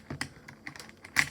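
Typing on a mechanical keyboard with clicky blue switches, cheap and unlubed: a quick run of about eight sharp, close keystroke clicks at an uneven pace, with a louder final press and no talking.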